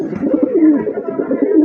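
A big male pigeon gives a close, loud, rolling coo in one short burst, with no other sounds.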